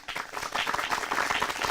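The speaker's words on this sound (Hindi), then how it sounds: "इस मंच पर हमारे साथ विशेषज्ञ जुड़े जिनका जोरदार तालियों के साथ शुक्रिया अदा करते हैं" A studio audience on a farmers' question-and-answer show gives warm applause to thank the visiting experts, brisk dense clapping close by that swells quickly and holds steady.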